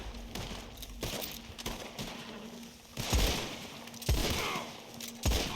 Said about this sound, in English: My gun's shooting like it's dirty, even though I just checked it before. But you hear that real flat sound it's making?